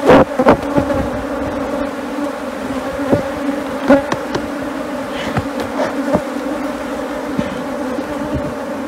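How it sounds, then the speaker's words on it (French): An agitated swarm of Africanized honey bees flies around close by after their nest was smoked, a dense buzzing drone with individual bees zipping past the microphone in sharp bursts. "Regardez la quantité d'abeilles qui volent autour de nous."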